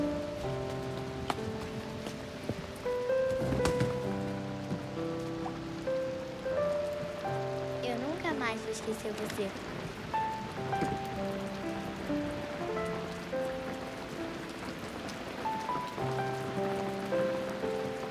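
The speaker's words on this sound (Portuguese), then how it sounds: "João, desce, que tá chovendo." Steady rain falls throughout, a continuous near patter on a surface, with tonal music-like sounds layered over it and no talk.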